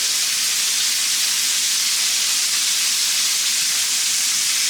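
Pork searing in a hot pan with rendered bacon and linguiça fat for a Portuguese feijoada, giving a loud, continuous, even sizzle and hiss that holds steady throughout.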